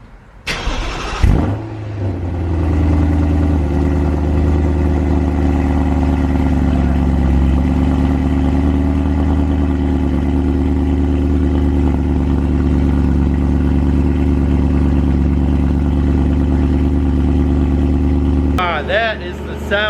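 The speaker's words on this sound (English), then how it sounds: "V8 rumble when you turn the car on" A BMW M3 V8 cold start: a sharp cranking catch, then a loud, steady, deep rumbling idle that holds close and constant for many seconds.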